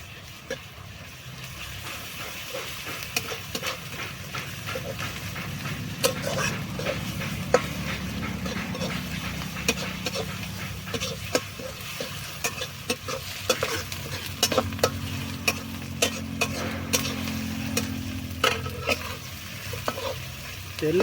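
Onions and ginger garlic paste fry in hot oil for chicken kadai masala, a steady sizzle broken by frequent clicks and scrapes of stirring, close and moderately loud.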